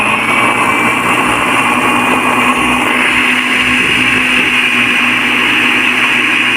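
A blender whirs loudly and steadily as it grinds almonds into paste for almond milk, a continuous high-pitched motor roar with a slight change in tone partway through and no talking.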